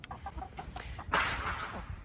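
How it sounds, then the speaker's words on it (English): A few backyard hens from a small flock of eight mixed breeds let out of their coop cluck in short bursts, then a louder squawk near the end, fairly close and otherwise quiet. "So we have 8 chickens."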